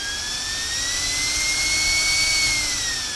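Loud, steady jet-like whine and whoosh of a rack-mounted router's cooling fans running at high speed, a continuous rising-then-falling tonal roar with no talk.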